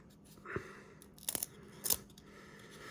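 Foil packs of 1996 Pinnacle baseball cards being torn open, with three short crisp ripping bursts spaced apart, close and fairly quiet.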